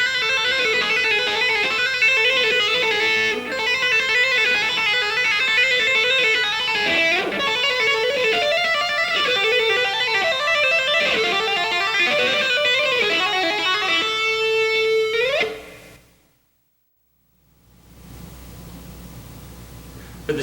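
An electric guitar plays a fast, continuous shred lick of rapid legato notes, dense and bright, close and loud, ending on a sustained bent note, then a short silence before a faint hiss returns.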